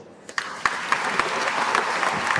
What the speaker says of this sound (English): That's all? One clap more.